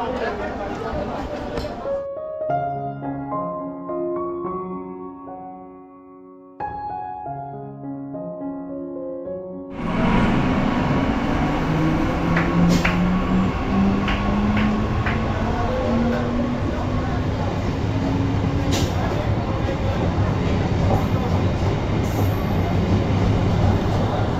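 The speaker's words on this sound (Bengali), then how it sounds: "তো দেবগ্রাম স্টেশন ছেড়ে এখন চলে গেল ট্রেন।" A train pulls out of Debagram station. After about ten seconds of melodic music, loud rumbling rail noise takes over with a slowly rising whine and scattered metallic clanks, continuing to the end.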